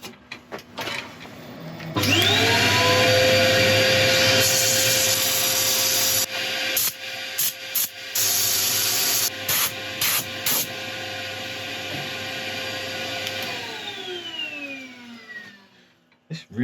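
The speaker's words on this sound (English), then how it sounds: "So I'll get ready for sanding" A wooden woodturning project is sanded on a spinning lathe: the motor whirs up with a rising tone, holds a steady hum under abrasive hiss with brief interruptions, then winds down near the end.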